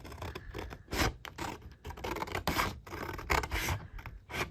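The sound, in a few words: large scissors cutting washi tape on glue book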